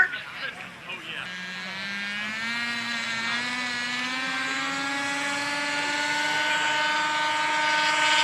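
A model aircraft engine at the SAE Aero Design competition whines loudly during a takeoff rollout, its buzzing pitch climbing steadily as the small plane speeds up down the runway.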